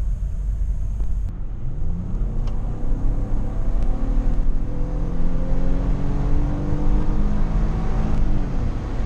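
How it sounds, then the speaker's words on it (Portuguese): Stock exhaust of a Hyundai Grand Santa Fe with a 3.3 V6 engine, a steady rumble with a smooth rise and fall of engine pitch over several seconds, muted and continuous with no talking. "É barulho de V6, é bonito, mas é silencioso."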